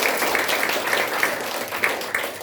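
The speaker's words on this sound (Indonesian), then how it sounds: "Beri tepuk tangan buat kita semua." Applause from a teacher-training class audience, a steady wash of many hands clapping at moderate level throughout, with a few louder claps standing out.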